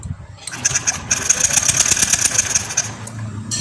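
A Yamaha Lexi scooter with an ignition fault is cranked by its electric starter, a whirring, pulsing run of about two seconds that never catches, framed by quiet low handling noise before and after.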